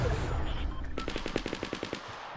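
Repeated pistol shots in a video game, a quick burst of about ten evenly spaced sharp cracks in the game's mix, loud and close over a low background rumble.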